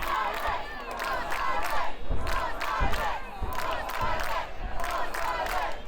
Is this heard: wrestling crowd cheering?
yes